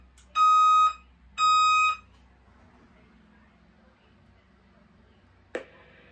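A Notifier VEC-2550 fire alarm panel sounds its evacuation signal: two loud, harmonic electronic tones, each lasting about half a second with a short gap between them, followed by quiet and then a single sharp click.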